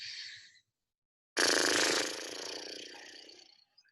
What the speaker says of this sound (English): on our exhale, you're gonna flutter the lips like a horse.